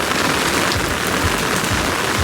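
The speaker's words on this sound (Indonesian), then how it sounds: "hari ini hujannya kayak slow gitu, nggak angin besar" Steady rain pours down without strong wind during a days-long downpour in the Maldives, a dense close hiss of drops striking the ground and an umbrella, with no talk.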